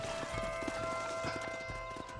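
Horse hooves clip-clop in a steady rhythm in the video game Red Dead Redemption on Switch, over a constant layer of tonal game music and ambience, with no talking.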